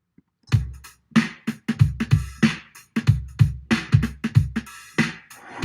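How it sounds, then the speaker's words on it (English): A punchy drum beat with deep kicks and snappy hits in a steady groove, played alone and loud. "So if we listen to just the drums, it sounds like this."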